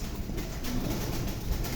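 Pigeon cooing from a large-sized pigeon pair of a fancy breed, a low, soft, steady murmur under continuous background noise, with no voices.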